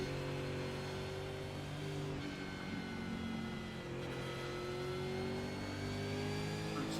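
An Australian Supercar in the iRacing sim racing game drones and revs as the throttle opens, a steady mid-pitched engine tone that climbs and dips slightly, heard alone at moderate volume.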